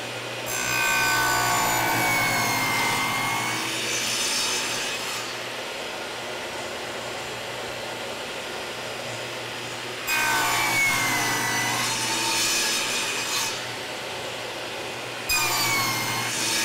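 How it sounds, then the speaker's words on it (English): Table saw with a sled cutting notches into a wood slab for a simple coffee table: loud whirring blade passes of several seconds each, repeated three times with short quieter gaps, close and without talking. "I'll just use those to line up my notches on the table saw."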